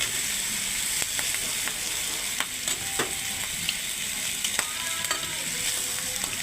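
Tomatoes sautéing for pork sinigang, a steady sizzle with scattered clicks and scrapes of stirring, close and alone without talk.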